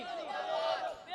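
A large crowd roars back in unison answering a Takbir slogan call at a religious gathering, a loud, sustained chant of many voices filling the space.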